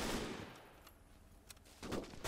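Soldiers in the Gates of Hell war game firing their guns on the run, a rapid burst of gunfire at the start and another at the end, separated by quieter battlefield noise.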